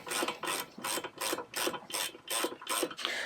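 A ratchet wrench loosens the brake caliper bolts on a Jeep Cherokee XJ, giving about eight rapid, rhythmic clicking strokes, close and clear with no talk.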